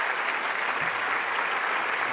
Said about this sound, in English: let us give another round of applause to President Buhari